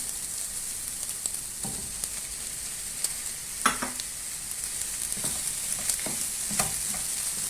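Soft sizzling of ground meat frying in a pan, with intermittent scraping clicks of a utensil stirring, close and fairly quiet.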